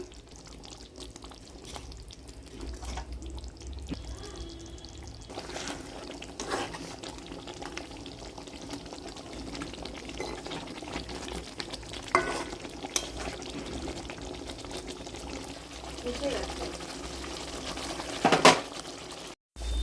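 Fish pieces added to a pan of masala with a little water and garam masala, a soft steady simmer and bubbling with occasional stirring and clinks of utensils, fairly quiet throughout.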